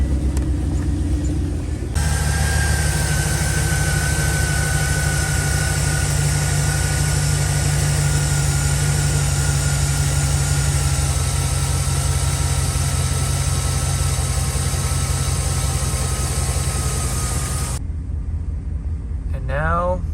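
Chevy Express van engine cranking briefly, then catching and settling into a steady close idle rumble with a whining tone, before it shuts off near the end, with a voice speaking over it.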